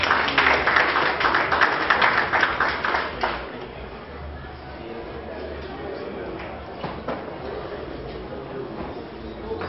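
Audience applause rises at the first Festival des Peuples Ordinaires ceremony as performers come onstage, strong dense clapping for a few seconds that then thins and fades beneath a lingering murmur of the crowd.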